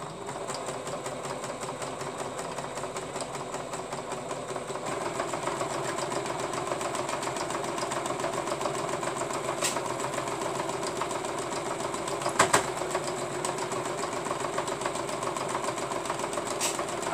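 A sewing machine with a needle due for changing runs steadily while stitching fabric, a fast, even mechanical whir and clatter that is close but fairly quiet, with one brief sharp knock near the end.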